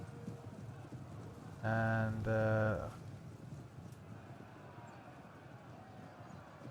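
A cavalry general's horse in a Macedon strategy game battle lets out a loud, brief whinny in two bursts among hoofbeats, set against faint battlefield ambience and soft speech.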